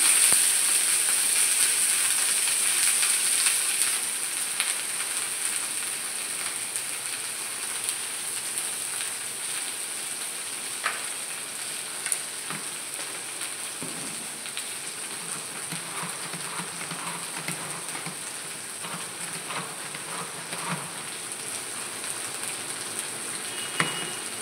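Okra fries in a pan for masala bhindi, giving a continuous, even sizzling hiss with faint crackles throughout, steady and close without any talking.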